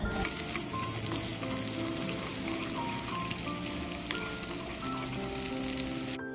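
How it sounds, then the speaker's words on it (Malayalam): Mustard seeds and chopped shallots sizzle and fry steadily in hot oil in a pan, with occasional stirring and faint pops, a continuous close-up crackle and no talking. "നമുക്ക് ഒരു ചീനിച്ചട്ടിയിൽ എണ്ണ ഒഴിച്ചൊന്ന് കടുക് വറുത്തെടുക്കാം"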